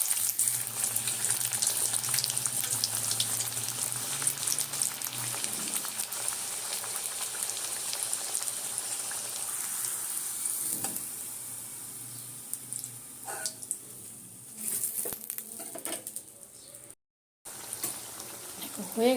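Fenugreek-leaf luchi deep-frying in hot oil give a continuous, close crackling sizzle like rain on a surface, rising and falling briefly before a momentary break.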